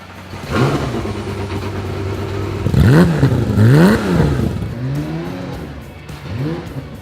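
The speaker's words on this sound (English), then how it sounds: "get the car fired up and see if the throttle revs it as accurately as what I'm hoping it will" A car engine is fired up and revved, climbing and falling in two strong sweeps before a few lighter throttle blips, loud and close with no talking.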